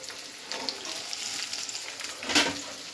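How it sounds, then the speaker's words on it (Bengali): Pistachios fry in a pan, giving a steady crackling sizzle throughout, with a louder burst of sizzling near the end as the food is stirred; no one speaks. "আর এখানে পেস্তা ভাজা হয়ে গেছে"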